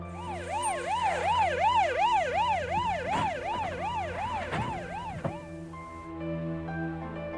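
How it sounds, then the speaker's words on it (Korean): An ambulance siren wails in a steady rising and falling pattern, loud and close, with traffic noise underneath before it cuts off. "구급차가 도착했다."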